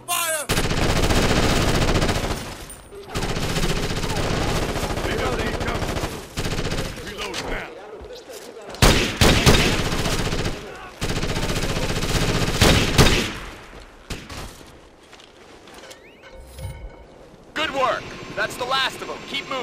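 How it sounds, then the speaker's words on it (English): Bursts of automatic gunfire and shots in the military shooter Ghost Recon Advanced Warfighter, loud and sustained with short pauses, mixed with a voice talking. "Taking hostile fire."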